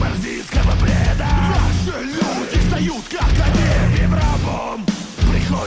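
A nu metal-style section of a metal song, loud and dense, with heavy low-tuned guitars driving a chugging, stop-start rhythm and shouted vocals riding on top throughout.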